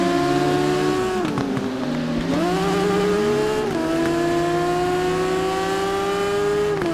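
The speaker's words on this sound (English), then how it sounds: "Dude is riding that bike fast up there." A racing motorcycle engine in the game TT Isle of Man: Ride on the Edge revs hard and loud, its pitch sweeping down and climbing again through gear changes, then holding a high, sustained whine.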